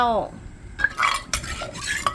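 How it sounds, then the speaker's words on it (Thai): A metal spoon scrapes and clinks against a pot in a few quick strokes while scooping in curry paste, close by, with a brief tonal ring at the start. "ตักพริกแกงมาลงในหม้อเลยเจ้า"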